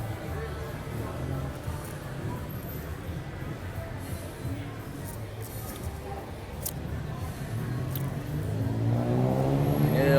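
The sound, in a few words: vehicle engine revving in Bangkok street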